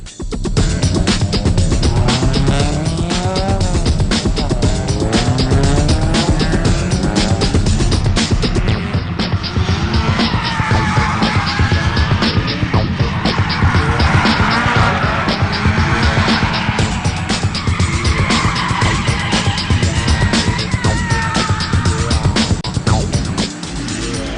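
Cars drift around a practice track, engines revving hard and tires squealing in long, continuous screeches that rise and fall, loud and close throughout.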